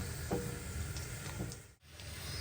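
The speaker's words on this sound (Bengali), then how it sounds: "এই তো এখন হচ্ছে ফুচকাগুলো ভেজে নিচ্ছি" Puchka puffing up as they deep-fry in hot oil, a soft steady sizzle and hiss with faint bubbling pops, quiet and close.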